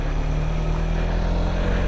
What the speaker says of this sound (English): I can hear more from the actual engine than I can the exhaust